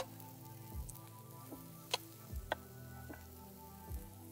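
Faint soft sizzle of onions frying in a little oil in a pan, with scattered clicks and light knocks from stirring or utensils, quiet and sparse with no talking.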